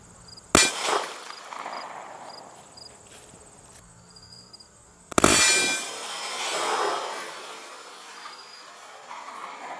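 Two loud gunshots strike a steel target about four seconds apart, each a sharp crack followed by a ringing metallic clang and a fading wash as shrapnel fragments, with insects chirping faintly outdoors.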